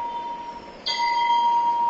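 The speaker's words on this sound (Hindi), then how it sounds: "हम किसी भी मंदिर पे टच करते हैं तो जो है यहाँ पे घंटी बजती है" A temple bell rings in a Hanuman devotional app demo: one clear metallic strike that sustains with a bright ringing tone, loud and close, over a faint steady electronic hum.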